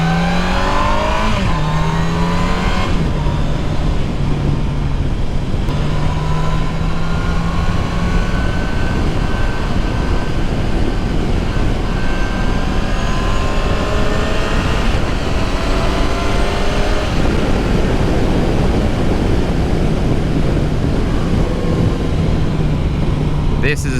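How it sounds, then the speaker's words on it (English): A 2019 Yamaha FJR 1300 ES sport touring motorcycle engine roars steadily at speed with rising and falling revs through gear changes, loud and continuous with heavy wind noise. "This is a serious motorcycle."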